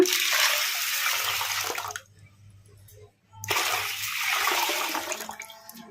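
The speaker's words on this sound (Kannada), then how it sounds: "ಈಗ ಇದಕ್ಕೆ ನೀರು ಹಾಕ್ಕೊಂಬಿಡೋಣ" Water pours steadily into a container of washed black-eyed peas for soaking, with a broad rushing splash, pausing briefly for about a second before pouring resumes, with no talking.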